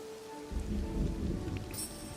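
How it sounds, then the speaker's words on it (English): Rain begins falling in the video game Disney Dreamlight Valley, a steady broad hiss of rainfall swelling over a low rumble, with no talking. "Damn you, weather! You just started raining!"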